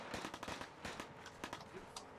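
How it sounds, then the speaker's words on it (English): Rapid bursts of gunfire in the video game Fallout, sharp crackling shots in quick irregular succession, heard faintly without talking. "I hear gunfire."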